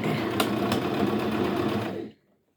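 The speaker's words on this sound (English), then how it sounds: "re-sew the seams. Hopefully it'll have a good, strong hold." A sewing machine re-stitches the seams of a heart-shaped pillow in a steady, fast whirring run of about two seconds that stops abruptly, close and moderately loud.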